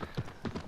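A horse's hooves clip-clopping in the video game Shadow of the Colossus, a few quick, faint hoofbeats in a short burst.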